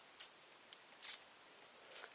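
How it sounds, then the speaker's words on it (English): Scissors snipping through yarn while making a pom pom: four quiet, crisp cuts spaced unevenly, one a quick double snip, over an otherwise silent background. "And then you can cut a bunch off at the end."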